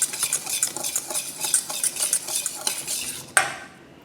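Dry oatmeal pancake ingredients with baking powder stirred briskly in a bowl, giving rapid rhythmic scraping and light clinks, then one sharp knock before the stirring stops.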